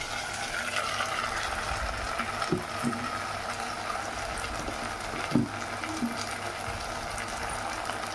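Boiled potato pieces going into a pan of chicken curry, a steady background sizzle of frying with a few soft plops and knocks as the pieces drop in, no talking.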